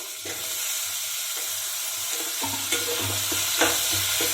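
Chopped tomatoes fry in a pan with ginger garlic paste, a steady hissing sizzle with light stirring scrapes and a few soft clinks, close and continuous.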